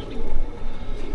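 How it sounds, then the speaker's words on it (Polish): A three-year-old male breeding pigeon coos close by, with a low, throaty, rolling call against steady background noise. "No to jeszcze mamy jednego fajnego gołąbka rozpłodowego."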